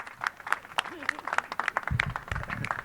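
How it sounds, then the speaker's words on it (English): An audience at a mayoral press conference on street paving applauds Mayor Jim Kenney, scattered close claps pattering through the short stretch, with a voice speaking over them. "Let's give a warm round of applause to our mayor, Mayor Jim Kenney"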